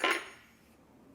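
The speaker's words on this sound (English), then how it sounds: "Do you want a spoon to stir it?" A spoon stirs a raspberry-salt electrolyte drink in a glass, giving one bright, close clink followed by a fainter tap about a second later, with no voices.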